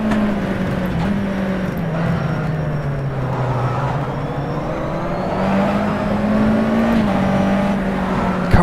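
USF2000 open-wheel race car in rFactor 2 at Hockenheim, its engine droning steadily and loud throughout, pitch sagging then climbing as it revs through the gears, with no voices over it.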